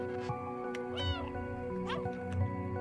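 A cat in a video game gives a couple of short, high meows over steady droning background music, close and fairly quiet.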